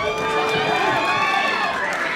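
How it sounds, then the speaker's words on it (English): Boxing crowd at a fight night making loud, continuous noise and cheering for Moreno, a dense roar with a commentator's voice talking over it. "And that's all Moreno's crowd making noise"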